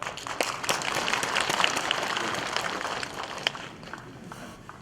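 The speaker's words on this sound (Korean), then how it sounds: "찬성하는 분들한테도 박수를 한번 보내주시기 바라겠습니다" Scattered applause from residents at a town meeting about relocating the Daegu civil-military airport in Uiseong County, moderately loud, thinning out toward the end.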